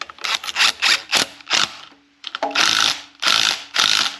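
Tightening a bolt with a washer on a 351 Windsor engine being readied to run: bursts of quick ratchet clicks in close, loud groups, broken by short pauses, one longer gap near the middle.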